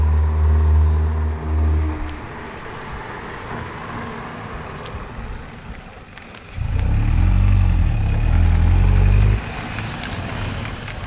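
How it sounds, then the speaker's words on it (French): A BMW E46 Compact with a reported lack of power drones nearby, then its engine note swells loudly under full throttle for a few seconds before easing back to a steady hum. "ce n'est pas un tracteur ni une voiture sans permis qui arrive pied au plancher, mais bien une E46 compacte"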